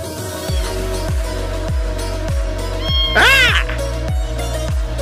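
A Persian odd-eyed cat with newborn kittens indoors: a louder, drawn-out meow rises above a background of regular rhythmic beats and a constant hum, with a faint voice nearby.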